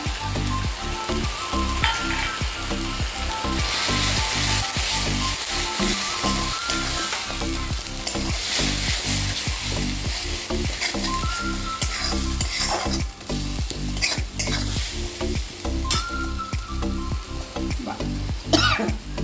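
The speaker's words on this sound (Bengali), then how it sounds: "দেখো মশলাটা ভাজা ভাজা হয়ে গেছে" Cumin, coriander, chilli and turmeric spices frying in oil for a cauliflower and potato curry, a loud continuous sizzle broken by frequent scraping stir strokes, with music playing underneath and no talk.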